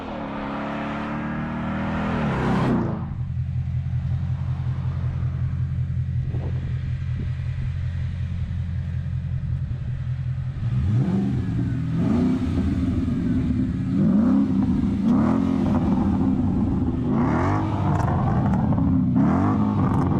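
A Ford Mustang GT 5.0 with an Akrapovic exhaust rumbles at idle, then revs and pulls away, its low engine note rising through the gears, close and loud with no talk.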